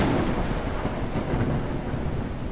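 A thunderstorm rages in the video game Forever Skies, with steady heavy rumble and rain noise filling the whole moment at a loud, constant level and no voices.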